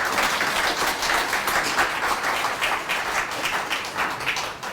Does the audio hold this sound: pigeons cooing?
no